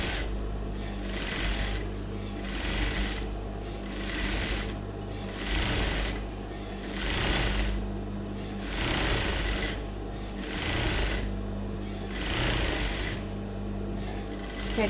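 A sewing machine stitches a crop top seam in repeated bursts of rapid whirring, each run lasting about a second with brief pauses between, close and steady with no talk.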